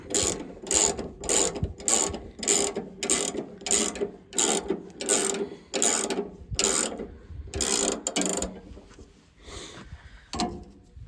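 Blade tensioning on a Wood-Mizer LX25 portable sawmill, a ratchet cranked in a steady series of about a dozen sharp clicking bursts, close and fairly loud, with a pause near the end.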